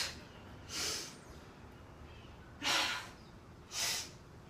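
Three breathy exhales during exercise, heard up close and spaced a second or two apart, each a short rushing puff of air against a quiet background with no talking.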